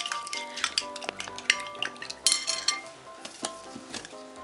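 A utensil stirring eggs for chak-chak dough scrapes and clinks around a bowl in quick, irregular strokes, close and fairly quiet, with light wet swishing.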